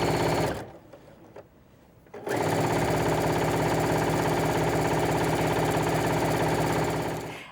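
A sewing machine stitches steadily and loudly along a fabric strip for a kid's bedroll, its rapid mechanical chatter running continuously after a brief quieter pause near the start.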